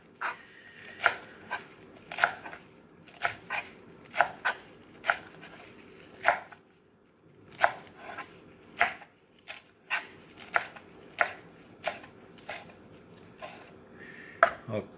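A kitchen knife chops vegetables on a board for a Dr. Sebi-style electric vegan soup, a steady run of sharp, close thumps at uneven intervals with short pauses and a faint background hum.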